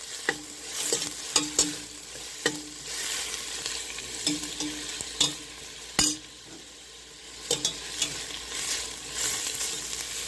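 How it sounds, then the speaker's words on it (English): Ginger garlic paste sizzles in a hot pan while a spoon stirs it, steady frying hiss broken by sharp scraping and clinking strokes against the pan at irregular intervals, close and clear with no talk. "And give it a good mix."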